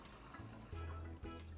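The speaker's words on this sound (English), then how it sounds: "put a little bit more water in case you need it." Water pours into a pressure cooker for curry cow heel, a faint liquid trickle and gurgle in a few short bursts, heard close up.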